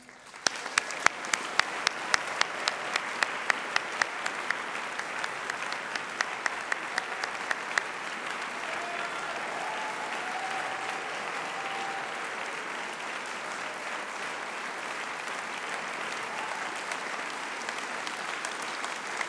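An audience at the 2019 BISQC awards ceremony applauds award-winning string quartet groups, with sharp individual claps at first that merge into a steady, full round of clapping lasting nearly twenty seconds.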